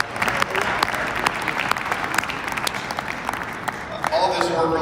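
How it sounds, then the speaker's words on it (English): Audience applause fills a hall at a Seattle Convention Center event, loud and sustained for several seconds. Sharp individual claps stand out, and a voice begins speaking as it fades. "So let's give ourselves a round of applause for that."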